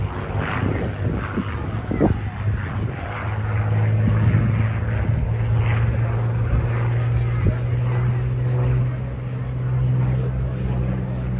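A P-40 Warhawk propeller warplane climbs overhead at an airshow, its engine rising to a steady, loud hum that holds for several seconds, with faint wind and background noise.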